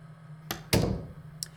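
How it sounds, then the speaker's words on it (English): A door is locked in a visual novel video game: a soft click, then a heavier thunk of the latch closing over a low hum, and a faint tick after it. "I leave the room and lock the door behind me"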